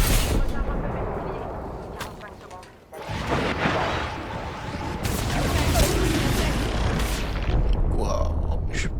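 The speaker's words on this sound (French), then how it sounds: "Je lance une grenade thermique." A thermite grenade bursts in an Apex Legends firefight, loud booming crackle and fiery hiss sustained over several seconds amid other battle noise, with voices talking over it.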